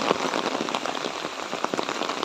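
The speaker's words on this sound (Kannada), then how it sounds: "ಸೊ ನೋಡಿ, ಫುಲ್ ಮಳೆ ಬರ್ತಾ ಉಂಟು." Heavy rain pattering densely on a surface nearby at an estate resort in Moodbidri, Karnataka, a constant hiss with scattered sharper drops, no talking.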